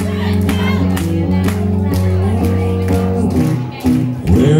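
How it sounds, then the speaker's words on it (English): Rhythmic audience hand-claps keep time under a loud live band performance of a song, steady and continuous beneath the music. "Clap those hands."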